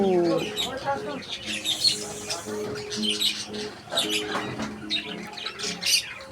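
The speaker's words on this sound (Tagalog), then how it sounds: "Oh, mga ibon." Birds squawk and chirp repeatedly at close range in Cebu, a noisy flock calling over one another while a person speaks underneath.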